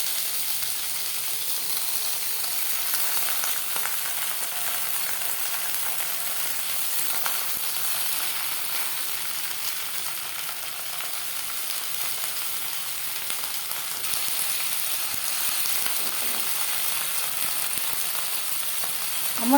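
Fish paturi parcels fry in a spoonful of hot mustard oil in a frying pan over high to medium flame, a continuous even sizzle close up throughout with no voices.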